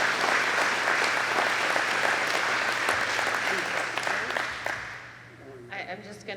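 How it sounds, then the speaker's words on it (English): Audience applause at a ceremony marking 25 years of a community agreement, steady clapping that fades toward the end as a voice begins speaking. "there should be an applause."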